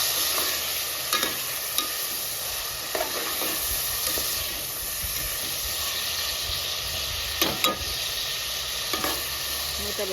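Tomatoes, onion and drumsticks frying in hot oil tempering for a mutton drumstick curry, with a continuous close sizzle and several sharp scrapes of stirring spread throughout, with no voices.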